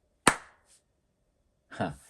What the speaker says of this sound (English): If I clap like this